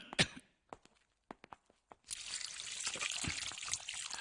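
A kitchen tap turned on after a few scattered clicks and drips, then water gushing steadily and loudly close by, with no talk.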